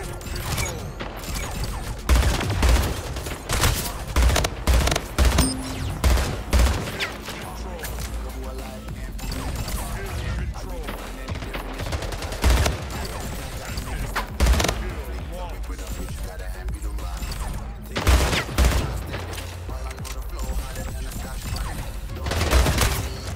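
Gunfire and grenade blasts in the Splitgate arena shooter video game: repeated bursts of weapon fire and thuds, close and fairly loud, recurring in clusters over a busy game mix.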